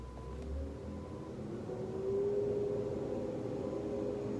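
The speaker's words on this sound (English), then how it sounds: "I think there's a garbage truck outside." A garbage truck idles outside, its engine a steady low rumble heard at a distance that swells slightly midway and holds, faint and alone without talk.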